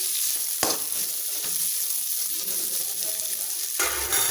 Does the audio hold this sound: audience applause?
no